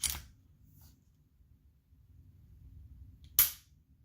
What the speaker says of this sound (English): Yeah, the trigger break is actually really nice.